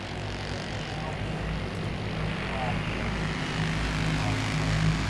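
Wing Champ Karts race at Langley Speedway, their engines a continuous droning roar at a distance that swells slightly toward the end, with a voice talking over the racket.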